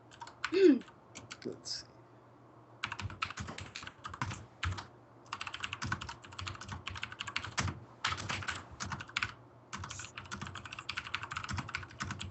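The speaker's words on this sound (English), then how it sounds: "It's a mechanical keyboard. It's loud no matter what." Rapid bursts of typing on a loud mechanical computer keyboard, clattering clicks in uneven runs with short pauses, close by, with a brief voice near the start.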